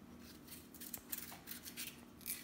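A knife peels a raw chocho (chayote) for a vegan salad, producing soft scraping and shaving strokes at an uneven rhythm, close and quiet, with no speech.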